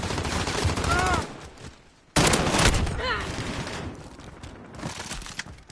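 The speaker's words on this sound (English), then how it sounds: "Enemy sentry gun active." An enemy sentry gun fires in a video game in dense, loud automatic bursts, with a sharp restart midway and quieter shooting trailing off, while voices talk over it.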